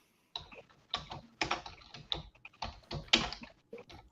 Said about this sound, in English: I love the typing